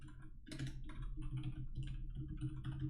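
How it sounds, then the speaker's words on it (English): Quick keystrokes on a computer keyboard as a web address is typed, with a short run of soft, close clicks over a low steady background hum. "select some text, click this link button, and type in a URL."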